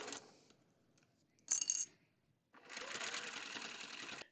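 A domestic sewing machine stitching facing onto a quilt, a quiet rapid mechanical whir in two runs, a short burst then a longer steady one, broken by a brief clinking pause.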